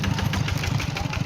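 A farm tractor engine chugs steadily in a small rural village, a close, rough low-pitched idle with a rapid throbbing pulse running throughout.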